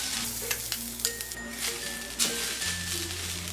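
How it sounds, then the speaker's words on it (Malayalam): Grated coconut sizzles in a tablespoon of ghee in a pan over medium flame for sweet Kerala kozhukatta, a steady close crackle broken by a few scraping stirs, with no talking. "ഇതിലേക്ക് എടുത്തു വെച്ചിരിക്കുന്ന തേങ്ങ ഇട്ടൊന്ന് ഇളക്കി കൊടുക്കാം."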